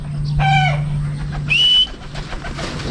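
Racing pigeons in a training release are heard up close. There are short whistling calls and tonal coos over a low steady hum, with a bird-like trill partway through, and no one speaks.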